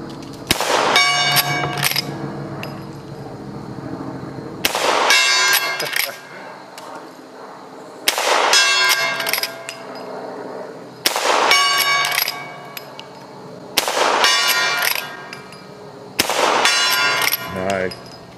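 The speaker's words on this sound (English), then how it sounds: "Let's see if we can catch some of these big heavy slugs lumbering into the gong." An 1866 Winchester Yellowboy lever-action rifle sends heavy slugs into a steel gong, each of six evenly spaced shots followed by a bright metallic clang that rings out for a second or more before the next, with a voice speaking faintly between impacts.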